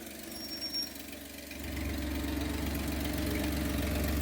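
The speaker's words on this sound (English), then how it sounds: "Ooh, little exhaust leak." A Lexus LX570 engine idling with a small exhaust leak, heard as a steady low mechanical hum that grows louder and fuller partway through, carrying a faint ticking texture, with no talking.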